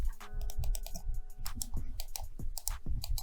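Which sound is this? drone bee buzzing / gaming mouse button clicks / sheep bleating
gaming mouse button clicks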